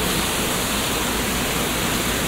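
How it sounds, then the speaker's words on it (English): Waterfall at the Four Seasons Lodge in Lake Ozark, Missouri, heard as a dense, constant rushing roar that fills the space with no pauses. "And there is the waterfall."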